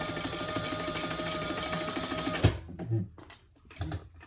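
Sewing machine stitching box corners on a Tulip Trio pouch, a steady close mechanical whir with clicking that stops abruptly midway, followed by a few quieter handling clatters.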